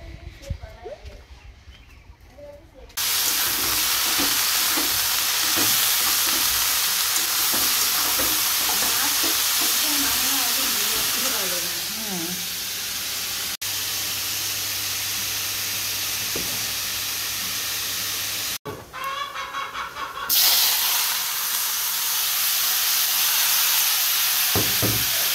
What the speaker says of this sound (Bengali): এই যে সর্ষে আর শুকনো লঙ্কা ফোড়ন দিয়েছি